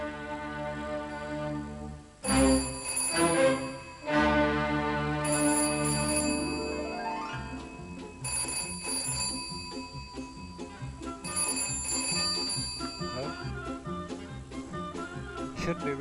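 Old-style telephone bell ringing in repeated electric bursts at a steady rhythm, fairly close, over a busy background of other sounds with no clear talk.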